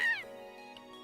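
A single clear cat meow from the role-playing game Trails of Cold Steel, close and distinct, rising then falling over about a second against a quiet background.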